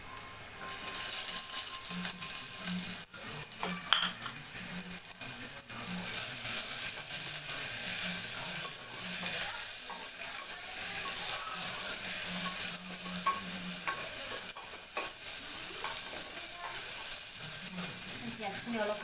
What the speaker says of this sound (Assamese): পিঁয়াজখিনি অলপমান ভাজি ল'ম।